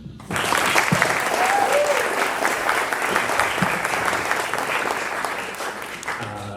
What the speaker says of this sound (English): Can we give a big round of applause for the Studio Jazz Band?